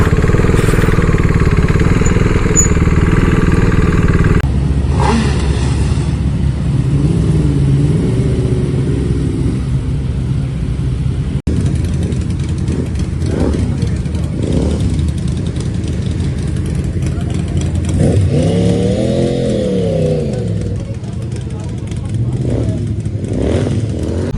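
A group of superbikes at a meetup idles and revs, engine pitch rising and sweeping as they pull off one after another, with people talking over the roar.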